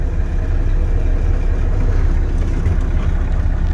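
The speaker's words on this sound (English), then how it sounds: "now I'm going to safe start the vehicle, which I'll make sure it's in neutral" A Class A truck engine idling in the cab after a start in neutral, a loud steady low rumble that holds constant throughout without talk.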